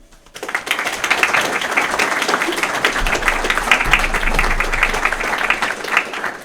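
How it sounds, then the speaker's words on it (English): Applause from a seated audience at a 2022 Pitman Training Ireland West graduation ceremony, a dense steady roar of many clapping hands that swells after a quiet start and holds at full strength. "And we applaud you for that."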